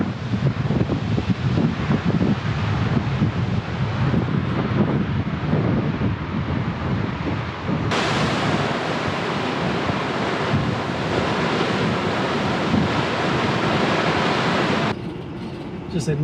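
Surf and gusting wind at Frazer Beach on the NSW Central Coast, a broad continuous rushing wash with heavy wind buffeting on the microphone, loud and steady throughout.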